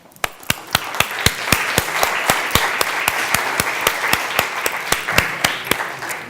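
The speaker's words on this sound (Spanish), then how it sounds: "Un aplauso a todos." Audience applause at a tourism debate panel, broad clapping from the room with one steady rhythmic clapper standing out above the rest.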